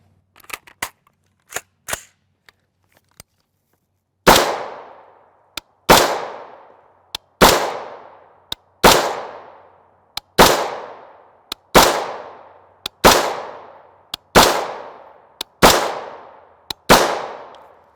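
A 20-inch PSA premium build AR rifle with a 1-in-7 twist barrel fires 5.56 M855 62-grain FMJ rounds. After a few light clicks, about ten loud, sharp, evenly spaced gunshots crack out, each with a brief decaying echo.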